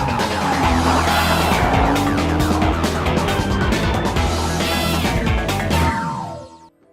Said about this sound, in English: Today I get to drive the Lexus ISF.